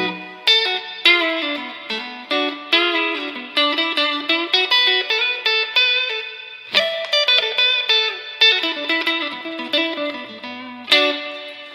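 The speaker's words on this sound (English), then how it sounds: "let's just max out this reverb so you can hear." Electric guitar played through a Quilter Aviator Cub 50 1x12 combo amp with the reverb turned all the way up, picked notes and chords ringing out in clear phrases with long, hall-like tails between attacks, no talking.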